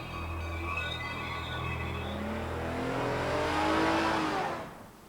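A Ford Maverick with a 3-litre V6 engine accelerates hard, its rising whine and engine note climbing through the gears and growing louder before dropping away sharply at the end.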